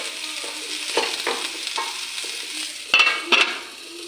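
Eggplant frying in a pan with tomato, turmeric and salt, a continuous sizzle broken by spoon stirring strokes and two sharp metallic clinks near the end.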